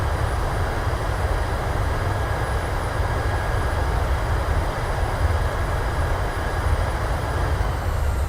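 Thrust reversers of a PMDG 737-700 roar after landing in Microsoft Flight Simulator, a loud, steady, broadband rushing engine noise holding constant throughout with no pauses.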